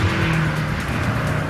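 A 2012 BMW M5 sedan launching hard from a standstill, its engine roaring loud and close in a steady, sustained pull with some tire noise, no talking over it.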